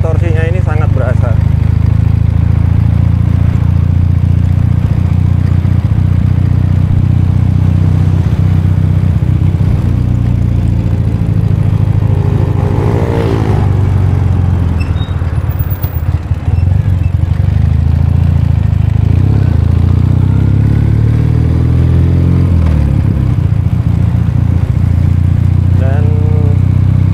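A loud, deep engine of a 2017 Ural Patrol motorcycle drones continuously while riding, with rising and falling revs and wind rush, and someone talks over it throughout.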